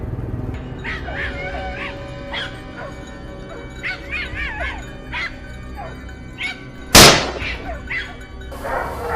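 A dog barks and yips repeatedly in excited bursts during a wild boar hunt in a field, with some whining between barks and a sharp gunshot crack near the end.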